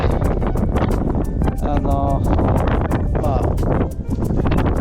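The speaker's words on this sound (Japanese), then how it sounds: "いや、風強いな。" Strong wind gusts buffet a microphone on a house rooftop during a typhoon-season ridge cap repair, a loud continuous roar with someone talking over it.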